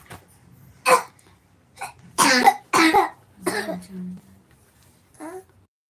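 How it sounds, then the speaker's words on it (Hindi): Several sharp, harsh coughs come in short bursts with pauses between, close to the microphone, with a faint voice near the end. "हाँ, खांसी बहुत होती है।"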